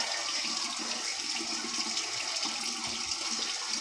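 Steady rush of running water from a tap while a head is wetted before shaving, continuous and fairly close with no talking.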